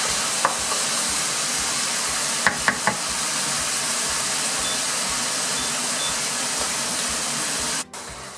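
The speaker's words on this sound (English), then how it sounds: "And I'm going to stir it all in." A pan of chicken and sweet potato curry sizzles steadily while it is stirred, with a few knocks of a utensil against the pan and an abrupt cutoff near the end.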